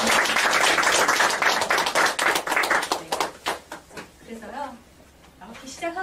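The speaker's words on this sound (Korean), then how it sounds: "뜨거운 박수 한번 치면서 시작하도록 하겠습니다" Participants at a Busan alumni gathering of a PQ planning course clap together, a dense burst of hand claps that thins out into scattered claps with talk breaking through near the end.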